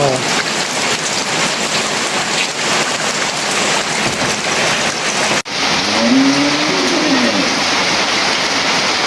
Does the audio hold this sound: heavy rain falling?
yes